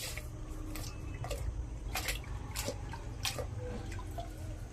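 Adenium plant roots are washed by hand in a bucket of water. Close, wet splashes and drips come in irregular bursts over a low, murky background, with no speech.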